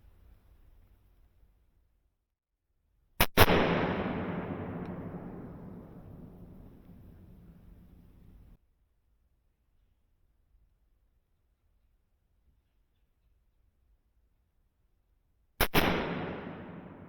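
Gunshots fired while hunting wild hogs outdoors: two loud, sharp reports about twelve seconds apart, the first trailing into a long, rumbling echo that fades over several seconds, with near silence between shots.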